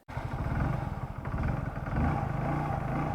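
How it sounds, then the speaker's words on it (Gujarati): A Splendor motorcycle engine idles with a steady, close, chugging putter, the rhythm holding even with a slight rise partway through. "તો બાઇક સ્ટાર્ટ કરી દઈએ આપણે"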